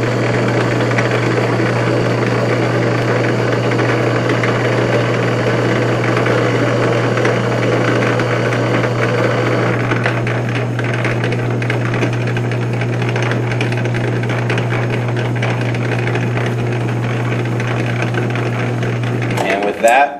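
A metal lathe making a threading pass at 8 threads per inch with the half nuts engaged, a steady loud machine hum with a strong low drone and a continuous mechanical whir that stops near the end.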